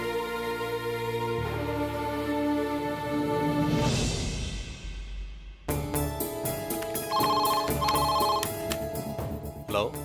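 A telephone rings during a call to a travel agency in a Tamil-dubbed TV serial scene. Loud, sustained tonal ringing sits among dramatic background music, with abrupt shifts partway through.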